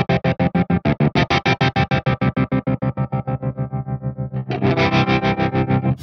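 Electric guitar through a ToneX modulation effect in stereo: fast, choppy tremolo-like pulsing on a sustained chord gradually smooths out, then a new chord is struck and the pulsing continues, loud and close.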